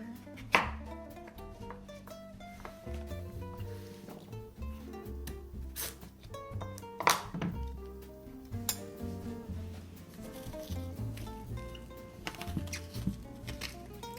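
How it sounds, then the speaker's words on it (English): A knife chops butternut squash into rough cubes on a board, giving a steady run of close, sharp cutting taps with a few louder strikes, over soft background music. "gonna cut it into smaller pieces so it roasts evenly in the oven"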